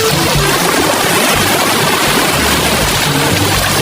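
Sea waves at the shore roar loudly and continuously in a close, wash-like surge with no pauses.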